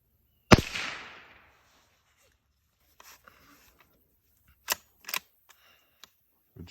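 Sharp single rifle shot from a Ruger Precision 22 followed by short metallic clicks and clacks of the bolt being cycled, close and crisp against quiet surroundings.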